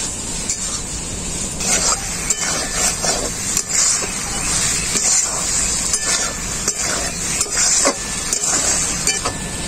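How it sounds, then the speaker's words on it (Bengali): Fried potatoes being stirred with spices in a pan, with a steady sizzle running throughout and repeated scraping strokes of a spatula against the pan, fairly close and loud, with no talking. "আলুটাকে মশলার সাথে খুব ভালো করে আমি কষিয়ে নেব"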